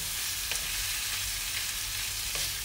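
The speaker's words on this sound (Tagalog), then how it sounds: "halo-halo lang natin yan hanggang mapantay yung luto" Carbonara with mushrooms sizzling and frying in a pan while being stirred, a steady hiss with a few faint scraping stir strokes, close and moderately quiet, with no talking.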